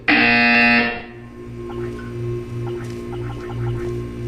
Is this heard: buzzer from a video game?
yes